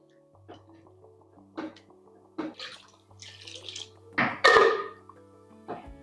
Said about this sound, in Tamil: தேவையான அளவுக்கு தண்ணியும் ஊற்றிக்கலாம்